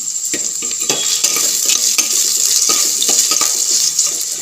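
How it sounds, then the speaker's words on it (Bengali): Taro and potato pieces fry in a pan with a steady bright sizzle, stirred by a utensil that knocks and scrapes at irregular intervals. A faint watery or tap-like wash sits underneath, and nobody speaks. "তো কচু আলু দিয়ে দিলাম, তো এটা একটু ভাজবো"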